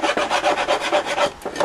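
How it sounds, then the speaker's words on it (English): A rasp files the edges of a piece of wood trim in quick back-and-forth strokes, about ten rough scraping passes, close and loud with no voices. "I can take my rasp and just clean off the edges."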